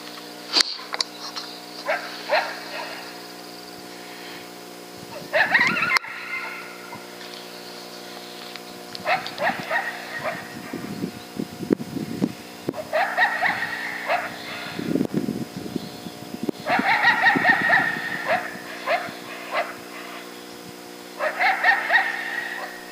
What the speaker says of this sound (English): It's an aggressive call, like a challenge, I take it as, but it has those barks in there.